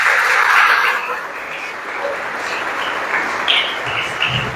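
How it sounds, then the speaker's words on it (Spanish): An audience at a religious gathering claps together, a dense continuous wash of applause that swells at the start and then holds steady for several seconds without speech. "Vamos a darle un fuerte aplauso a Jesucristo"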